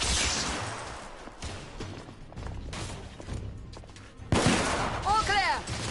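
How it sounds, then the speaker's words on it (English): Suppressive gunfire in the video game The Order: 1886, with repeated shots and volleys fired over several seconds, some near and loud, some more distant, alongside other battle noise and a little voice. "Crane, lay down suppressive fire!"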